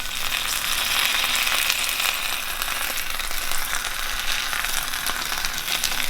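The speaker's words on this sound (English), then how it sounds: "you just want to cook these until they get a nice crust on one side, the cheese is melted, and then we just flip them over" Brisket birria tacos filled with Monterey Jack cheese fry in a pan, a loud, continuous close-up sizzle with steady crackle and no talking.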